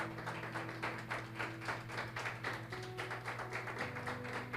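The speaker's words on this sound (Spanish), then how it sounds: "Denle ese aplauso al Señor." A church congregation claps in steady rhythmic unison at a Spanish-language worship service, continuous and fairly loud throughout, with a sustained musical tone underneath.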